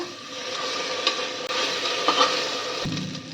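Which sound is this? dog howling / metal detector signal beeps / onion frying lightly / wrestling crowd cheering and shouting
onion frying lightly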